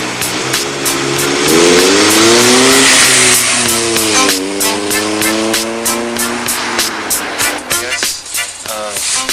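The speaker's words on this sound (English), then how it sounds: "my car is an Acura Integra GSR" An Acura Integra GSR street car in the Bay Area revs loudly and close, its engine note climbing and falling through several throttle sweeps, with tire noise and voices in the background.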